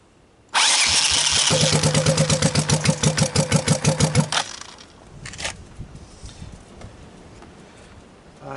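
A rebuilt Honda ATV engine with an added exhaust pipe cranks and fires without starting fluid, then runs loud and rough with a fast pulsing beat for about four seconds before cutting out, leaving faint rattles.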